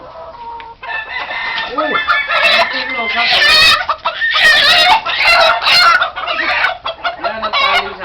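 Chickens cluck and a rooster crows repeatedly in a loud, busy farmyard, one bird having just been let loose and chased; a man briefly exclaims over the calls.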